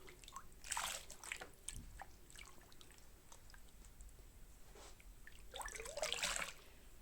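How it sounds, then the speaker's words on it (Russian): A down and wool shawl is dipped and swished in a basin of water, giving soft trickles, drips and gentle sloshing in two brief bursts with quiet gaps between, faint and close. "последний раз я его окуну в водичку"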